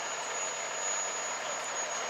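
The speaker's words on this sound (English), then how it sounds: "it was the only transformer that was buzzing" A buzzing electrical transformer gives off a constant steady electrical hum with a thin high whine, unbroken and fairly close, with no voices over it.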